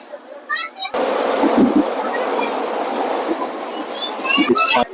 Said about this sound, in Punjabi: ਇਹ ਹੈ ਧੂਰਕੋਟ ਸਟੇਸ਼ਨ ਤੋਂ ਆਪਣੀ ਟ੍ਰੇਨ ਜਿਹੜੀ ਹੈ ਪੈਸੇਂਜਰ ਟ੍ਰੇਨ